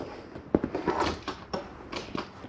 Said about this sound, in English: Secure door. Another secure door.